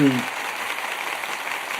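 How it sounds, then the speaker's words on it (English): Canned show applause sound effect: a brief burst of clapping and cheering that plays steadily for a couple of seconds, starting just after a voice cuts off. "Let me get you some applause"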